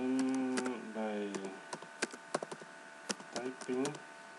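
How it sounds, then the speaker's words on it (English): Keys clack on a computer keyboard in an irregular burst of close, crisp taps, with a voice talking over the start. "typing."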